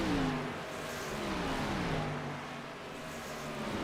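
A NASCAR stock car coasting around Homestead-Miami in the iRacing video game, a steady engine drone with slowly falling pitch, heard close, continuous and without talk.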